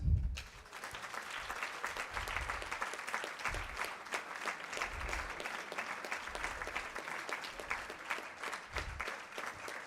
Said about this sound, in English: give her a clap until she reaches here.